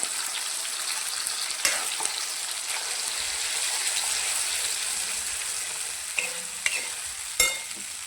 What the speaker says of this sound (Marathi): खोबरं लसूण बारीक केलेला आपण हा मसालाही चांगला फ्राय करून घेऊया